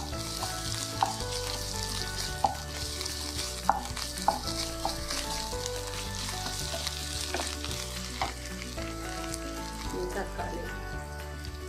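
Ginger and garlic fry in a pan for Kerala-style egg curry, a continuous close sizzle with scattered sharp clinks and scrapes of a spoon stirring against the pan.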